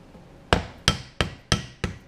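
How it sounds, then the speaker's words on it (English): A hammer sets a rivet on a handmade leather camera and utility bag with five sharp, evenly spaced strikes, close and clear against a quiet room. "And I'll close, put my cap on, and I'll put a second rivet."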